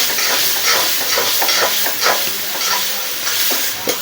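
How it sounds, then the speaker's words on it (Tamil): Onions sizzle and hiss steadily in a hot pan, with scraping stirs breaking through the frying noise every so often. "இந்த வெங்காயத்தை போட்டு கொஞ்சம் நல்லா வதக்கலாம்"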